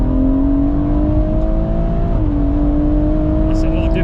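A BMW M140i with an upgraded fuel pump runs steadily close by, its engine holding a loud, even drone with a slight dip in pitch midway, no sharp revving bursts.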